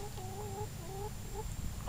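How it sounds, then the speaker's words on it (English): Chickens clucking in a friend's yard, a few short rising-falling calls repeated in a loose rhythm at moderate distance over a steady low background hum. "And here are my friend's chickens."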